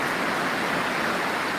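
Intense heavy rain pours down during a hailstorm in Austin, a loud, dense, unbroken hiss of water that stays steady from start to finish, with no voices.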